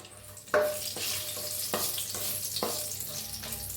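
Whole spices, including black cardamom, black pepper, cloves, cinnamon and bay leaf, roast in hot oil with a bursting sizzle that starts abruptly, then a continuous crackle broken by a few sharp stirring scrapes.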